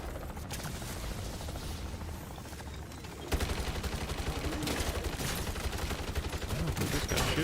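Rapid bursts of distant automatic gunfire in the video game MW3 Zombies, with a mechanical whir under it, growing louder midway into a steady stuttering rattle.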